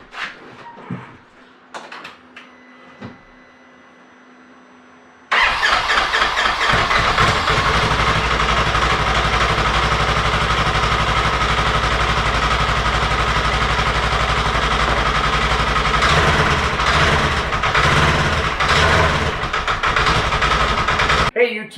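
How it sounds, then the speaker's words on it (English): A Polaris RZR side-by-side engine, just back from a 200-hour valve shim adjustment, cranks and catches with an abrupt loud start, then settles into a steady, close idle with a slight rise and fall; a few quiet sounds come before the start. "we're going to start her up"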